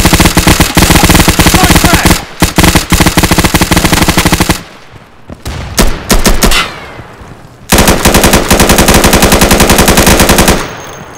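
Rapid automatic gunfire from the tactical shooter game Insurgency, loud sustained bursts of machine-gun fire with a brief lull and scattered single shots before another long burst.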